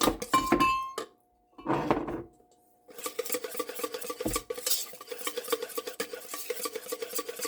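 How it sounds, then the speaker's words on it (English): Bread dough mixture whisked smooth in a bowl, with a steady run of stirring, scraping and clinking against the bowl after a couple of brief bursts and pauses, close and fairly loud. "And whisk that all together. So it's nice and smooth."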